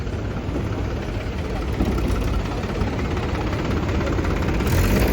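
The engine of an old tractor, an early Indian tractor model, runs nearby in Punjab with a steady, low, rumbling chug that stays loud throughout, no voices over it.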